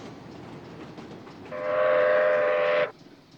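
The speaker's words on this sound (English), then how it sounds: "a turmoil of trains made a great noisy rumble on crisscrossing tracks" A freight train rumbles along, then a loud sustained horn blast sounds for over a second before cutting off, leaving the low rolling rumble.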